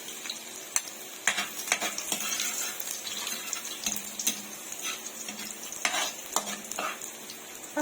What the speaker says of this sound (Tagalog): So, dito natin ngayon igigisa ang ating bawang.